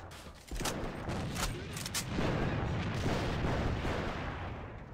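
Gunfire and a grenade explosion in the AVA online shooter: sharp shot cracks ring out, then a heavy blast and a sustained, rumbling roar of continued firing at moderate distance.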